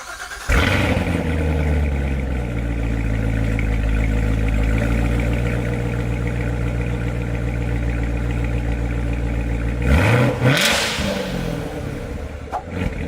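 A Chevrolet car engine idles with a deep steady rumble, then a single quick blip rev to 3,000 RPM rises and falls sharply near the end, close and loud.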